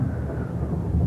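Low, continuous storm thunder rumbles steadily with no break, dense and heavy in the low range, with no voices present.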